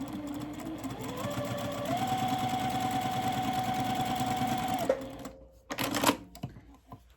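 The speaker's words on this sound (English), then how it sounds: "So make sure that you don't push or pull your fabric through your machine." A home sewing machine runs steadily for about five seconds, stitching a quarter-inch seam on quilting cotton, its rapid mechanical whir fairly close and loud, then stops and gives way to a few soft handling clatters and fabric rustles.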